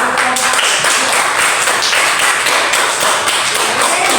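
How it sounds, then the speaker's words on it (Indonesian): A classroom of students claps together, loud, close and sustained, a dense, even patter of hand claps with no break. "Oke, tepuk tangan dulu."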